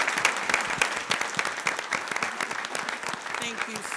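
Applause fills a school board meeting room, a dense, steady wash of many hands clapping that carries on evenly throughout, with a few voices faintly mixed in.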